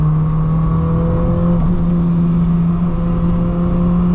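A 1986 Volkswagen Scirocco 16V accelerating, heard from inside the car: a loud, steady engine drone with a strong tonal hum that holds nearly constant with a slight shift partway through.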